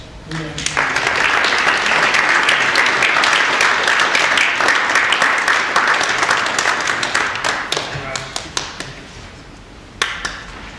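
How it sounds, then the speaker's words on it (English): An audience at a Boy Scout Eagle Scout Court of Honor breaks into sustained applause that fills the room for several seconds, then thins to scattered claps before a final brief burst. "round of applause, please."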